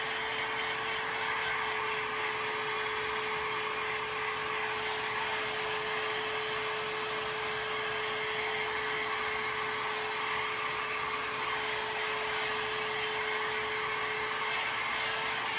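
A hair dryer blows continuously at close range, a steady whooshing drone with a constant motor whine and no pauses.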